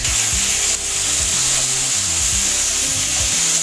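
A trimmed ribeye steak sizzles steadily and loudly in a hot pan, with a continuous frying hiss and scraping stirs breaking through it at intervals, with no voices over it.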